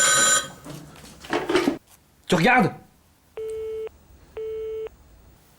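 Mobile phone call, two evenly spaced electronic ring tones following a stretch of speech, clear and close, then the line goes quiet as the call is cut.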